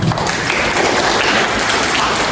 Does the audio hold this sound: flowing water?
no